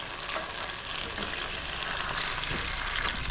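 Sardines sautéing with garlic and onion in a pan, heard as a steady, dense close sizzle with faint stirring, continuous and fairly even throughout with no talking.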